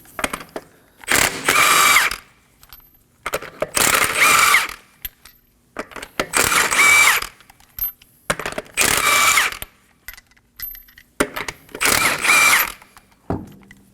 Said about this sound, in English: Using a 21mm socket,